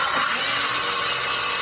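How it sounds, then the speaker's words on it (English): A circular saw runs at full speed, a loud, steady, harsh whine and rush with no breaks, heard close and alone. "He told me it's a circular saw."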